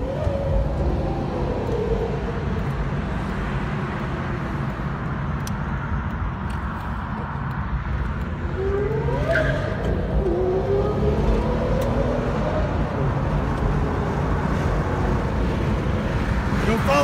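Supercar engine out in Houston traffic, rising and falling revs partly masked by wind and road noise, with some voices nearby.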